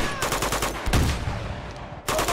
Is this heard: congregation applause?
no